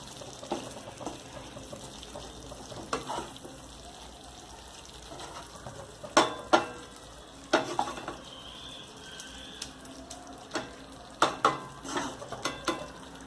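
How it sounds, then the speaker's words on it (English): Sliced boiled eggs stirred into frying masala gravy for a restaurant-style egg curry, with a spoon scraping and clinking against the pan in scattered bursts over a soft, steady sizzle, close by. "I am putting in the sliced eggs to the masala. Coat the eggs with the masala."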